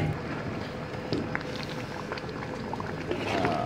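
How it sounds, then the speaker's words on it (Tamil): Shark fish curry bubbles in a pot, a steady soft simmering burble with small pops, fairly quiet and close. "Ini kari dah mendidih."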